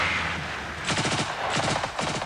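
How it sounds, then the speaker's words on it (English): Rapid rattling bursts of enemy machine gun fire during a military ambush exercise, several close, loud strings of shots over steady background noise. "More important, enemy machine gun."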